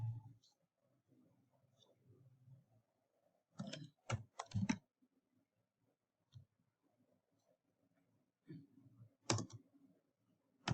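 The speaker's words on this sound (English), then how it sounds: "I'm typing here geo referencer." A few quick clusters of clicks on a computer keyboard, quiet and close, separated by stretches of soft talk in a low voice.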